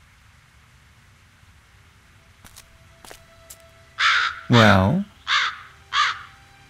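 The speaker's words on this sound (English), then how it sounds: "The stupid crow won't let me." Crows cawing in the adventure game Undercover Operation Wintersun: a few faint clicks, then four loud, harsh caws in quick succession near the end, with a brief spoken word just before them.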